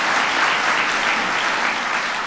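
Loud, dense applause from an audience at a presidential speech event, honoring a senator, forms a close, steady roar of clapping with no voices over it.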